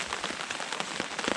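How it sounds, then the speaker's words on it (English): Steady rain patters on surfaces on a cold, roughly 35-degree day in Shawnee State Forest, a dense continuous hiss of drops with scattered louder close taps and no voices. "it's like 35 and rainy"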